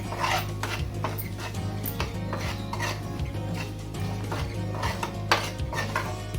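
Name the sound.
stirring rice mixed with salt and turmeric in a pan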